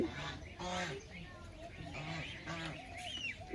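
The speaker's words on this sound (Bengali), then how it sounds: "সবগুলো হাঁস দাঁড়িয়ে রয়েছে একটা হাঁসের বাচ্চা নেবে কেউ যায় না এগিয়ে" A flock of ducks with a duckling, some in poor condition and needing treatment, gives faint, short quacking calls mixed in with nearby voices talking.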